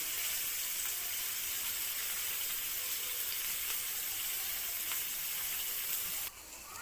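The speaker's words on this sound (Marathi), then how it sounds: "मध्यम ते हाय फ्लेमवरती परतवून घ्यायचं। जास्त नाही परतवायचं, थोडा थोडा ब्राऊन कलर येईपर्यंत" Paneer sautéing in a pan over a medium-high flame, giving off a dense, steady hiss of frying that holds nearly level throughout, then drops off abruptly just before the end.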